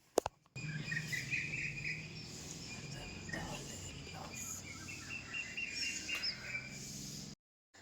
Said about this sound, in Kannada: ನನಗೆ ಬೆಳಗ್ಗೆ ಎದ್ದಾಗ ಈ ಪಕ್ಷಿಗಳ ಸೌಂಡ್ ಕೇಳಲಿಕ್ಕೆ ಒಂಥರ ಮಜಾ